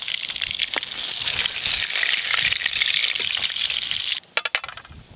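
Fish fry in hot oil with a loud, steady sizzle for about four seconds, then the hiss cuts off and a few clinks follow.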